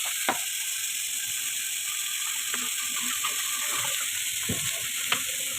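Potato and cauliflower curry simmers in a pan after water is added, giving a steady broad hiss of sizzling with small scattered clicks and bubbling pops, fairly quiet, with no one talking.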